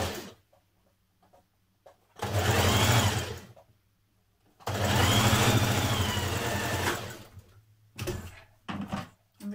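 Sewing machine stitching rib band pieces onto a Simplicity 8418 bomber jacket, heard as two sustained bursts of motor whir, each a few seconds long, with quiet pauses and small handling noises between and a short third burst at the end.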